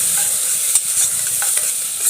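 Chopped onions sizzle in hot oil while a utensil stirs them, a constant bright frying hiss broken by a few scraping strokes in the pan.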